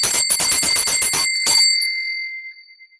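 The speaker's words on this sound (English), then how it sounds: "I just want to ring the bell for you" A small bell rung during a tarot reading gives a rapid series of bright metallic strikes, then one last hit that rings out clear and fades slowly over about a second.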